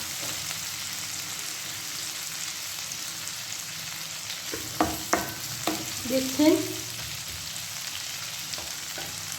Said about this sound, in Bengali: ক্যাপসিকামটা আমি এর মধ্যে একটুখানি ভেজে নেব।